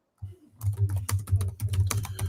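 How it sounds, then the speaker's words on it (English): Rapid clacking keystrokes on a computer keyboard, close and fairly loud, in an irregular burst of taps over a low steady hum, with no talking. "I'm typing that right now. I believe it. I can hear your keyboard right now"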